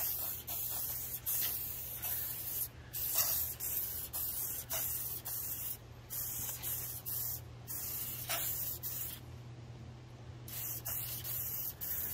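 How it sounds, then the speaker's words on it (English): A spray can test-spraying base coat paint outdoors, a loud, close hiss in repeated bursts separated by brief pauses, with no talking. "So we're gonna do a test spray out here."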